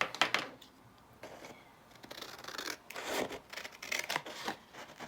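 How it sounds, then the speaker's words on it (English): Scissors snip through paper in a crafting session, a series of close, irregular crisp cuts and rustles, fairly quiet with short pauses between snips. "I should have grabbed my big scissors when I was over there"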